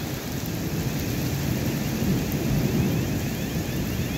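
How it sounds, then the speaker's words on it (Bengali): Heavy Kalbaishakhi rain pours steadily over Dhaka with a low rumble of thunder rolling underneath, a dense continuous wash of storm noise. "প্রচণ্ড বৃষ্টি,"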